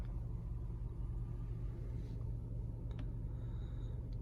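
A car drives away at sunset, heard as a steady low engine rumble and road noise that holds close and even throughout, with no talking.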